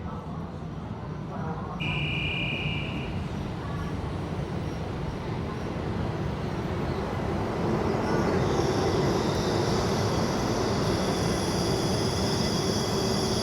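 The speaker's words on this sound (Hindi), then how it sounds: "ये लो दोस्तों अपनी ट्रेन आ गई, सुपर फास्ट ट्रेन कमिंग।" A super fast train pulls into a station in China with a broad, steady rumble, a short electronic tone near the start, and high whining tones building toward the end.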